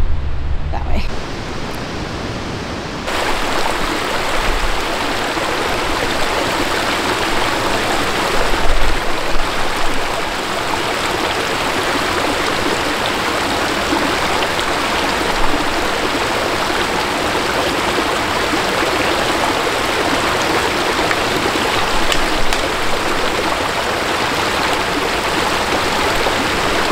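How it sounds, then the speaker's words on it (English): A mountain creek near Timberline Lake in Colorado's Holy Cross Wilderness rushes in a steady, loud, broadband wash throughout, with brief faint sounds near the start. "There's a creek down there"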